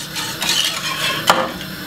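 A whisk working through thickening Jamaican cornmeal porridge with nutmeg in a pot, a brief close swishing and scraping with one sharper metallic tap near the end.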